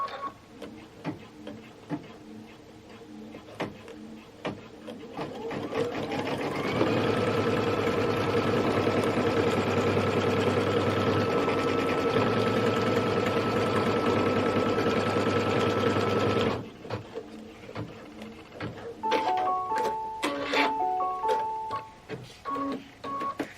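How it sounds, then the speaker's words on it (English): A sewing machine stitches a tack-down line on a Kimberbell Cup of Cheer sew-along project, running at a steady, close, even whir for about ten seconds before stopping, followed by scattered small clicks and ticks. "Now we stitch this tack down line."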